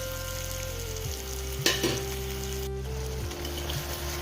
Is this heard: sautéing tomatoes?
yes